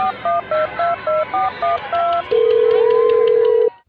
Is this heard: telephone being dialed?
yes